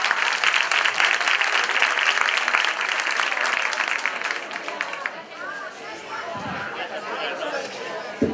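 An audience at a children's Christmas festival in Cadreita claps loudly and steadily, then the applause thins toward the end as crowd chatter rises underneath.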